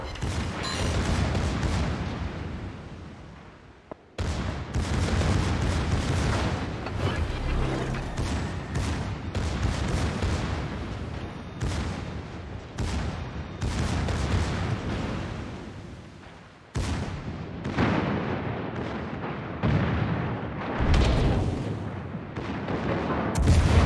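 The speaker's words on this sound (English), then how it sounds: "Concentrate fire on the enemy warship." Heavy naval gunfire in World of Warships, as warship guns fire on an enemy ship: a dense, continuous barrage of loud booms and blasts with rumbling explosions, nearly unbroken across the stretch and briefly dropping away twice before resuming.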